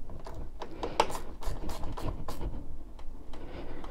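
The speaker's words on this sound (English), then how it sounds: "So yeah, 12 mil spanner on there." A 12 mm spanner clicks and ratchets while nipping up an exhaust nut on a Suzuki GSX-R1000R, close and fairly quiet, with a steady run of small metallic ticks and a few sharper taps.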